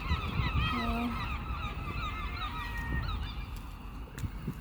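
Swans honk near the harbour at Eyemouth in the Scottish Borders, with several nasal calls overlapping in the first few seconds over a rumbling outdoor background, then tapering off.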